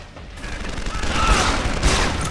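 Rapid gunfire erupts in the video game Deus Ex: Human Revolution, with dense, overlapping automatic bursts at close range and a faint voice beneath.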